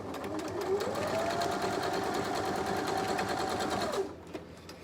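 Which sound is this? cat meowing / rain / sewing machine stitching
sewing machine stitching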